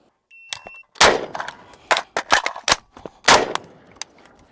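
Rifle shots fired at a 10-yard target with a magazine change in between: sharp, loud broadband cracks, a burst of several shots, a pause, then further shots, with fainter clicks and handling noise between them.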